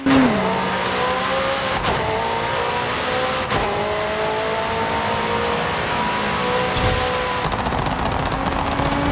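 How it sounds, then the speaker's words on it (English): A Mercedes E55 AMG engine with anti-lag turbos idles loudly and revs, punctuated by sharp popping bangs from the exhaust, close and continuous without talk. "Let's just hear that engine real quick."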